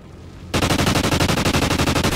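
Rapid automatic gunfire in Call of Duty: Ghosts erupts after a short quiet moment, a steady loud burst of evenly spaced shots that runs to the end.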